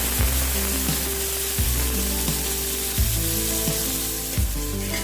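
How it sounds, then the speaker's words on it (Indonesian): Tomatoes fry in hot oil for Indonesian tomato shrimp-paste sambal, a dense continuous sizzle with occasional scrapes and stirs of a utensil, close and steady with no talking. "Lanjut kita goreng tomat."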